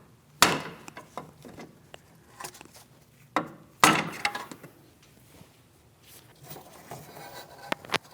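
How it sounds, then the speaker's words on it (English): A hammer lightly taps a pry bar to break a single-use boot clamp free on the inner tie rod of a 2016-2025 Chevrolet Malibu, giving a few sharp metallic knocks with scattered quieter clinks between them. "I'm going to lightly tap on the outer aspect of that pry bar"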